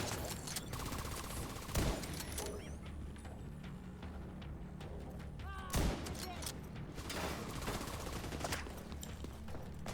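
Sniper and other gunfire in The Division 2 video game, two sharp loud shots standing out a few seconds apart over a dense, continuous bed of battle noise and shooting.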